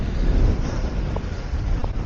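Offshore wind gusts buffet the microphone at the beach during wing foiling, a steady rough roar with faint water sounds beneath.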